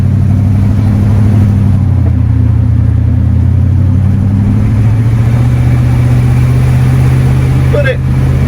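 A 1974 Cadillac Superior hearse's big engine drones steadily while driving at moderate speed, a loud, continuous low rumble filling the cabin throughout with little change in pitch.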